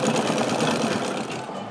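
A sewing machine runs steadily close by, hemming the flared edge of a doll's cloth huipil skirt with a fast, even whirring stitch throughout.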